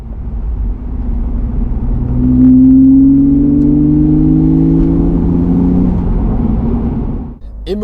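A 20-year-old car, freshly rebuilt, drives on the road: a steady mid-pitched engine hum rises and falls through gear changes, with tire and road rumble throughout, close and loud.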